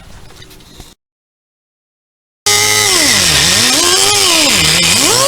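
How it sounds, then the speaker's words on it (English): A pneumatic air cut-off saw slices the protruding top off a bolt on a riveted aluminum jon boat, a loud, steady high whine with a wavering pitch that starts abruptly after a brief silence and runs continuously. "I'm actually going to take a air cut-off saw, this guy, and just cut the top of that bolt off"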